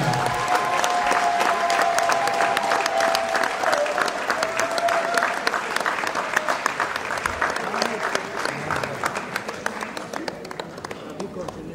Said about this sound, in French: je demande d'applaudir le survivant du cœur